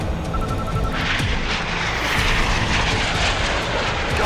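A fighter aircraft engine roars loud and continuous in an action-film aerial combat scene, a dense unbroken wash of jet noise with no voices over it.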